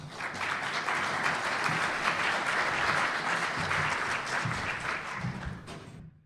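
Audience applause greeting Brett Lambert, Deputy Assistant Secretary of Defense, as he takes the stage at a conference: sustained, even clapping from a large crowd for about six seconds, then a quick fade to silence.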